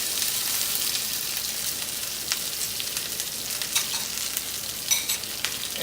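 Fish sizzles and fries steadily in a hot skillet, a continuous crackling hiss with a few sharper pops, close and moderately loud, with no talking.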